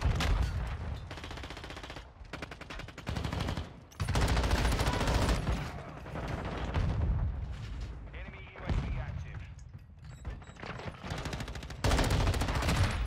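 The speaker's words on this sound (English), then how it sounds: "I get shot by an RPG" Modern Warfare 2 gameplay with bursts of rapid automatic gunfire and heavy blasts, including an RPG hit, loud and close in choppy runs with brief pauses, while a player talks over the action.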